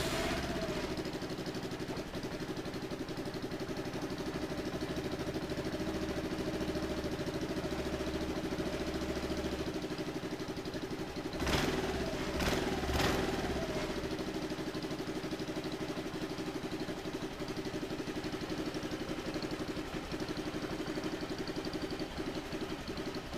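A Honda CN250 scooter engine with a refitted camshaft runs at a steady, even idle close by, with a few brief sharp clicks partway through.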